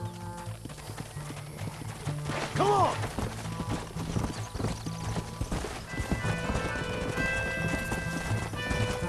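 Hooves clip-clopping at a galloping pace, with a horse whinnying and someone shouting a brief call over the hoofbeats, in the video game Red Dead Redemption.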